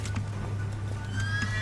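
Horse neighing in The Witcher 3 video game, a whinny with clip-clop hooves over a steady low hum, fairly close and alone without talk.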